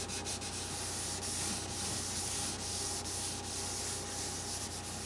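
Continuous rubbing rasp of sandpaper worked back and forth over the wooden neck of a Guild D44M acoustic guitar, close and steady with faint rhythmic strokes.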